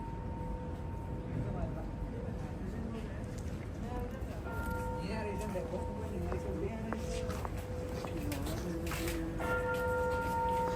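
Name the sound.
bell ringing in Tokyo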